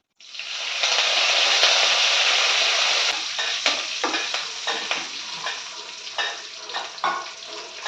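Curry leaves dropped into a hot tempering burst into a loud, dense sizzle that settles after a few seconds into a softer crackle with periodic stirring scrapes.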